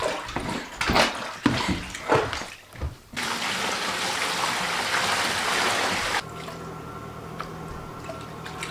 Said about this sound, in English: Oh, you give me hot water?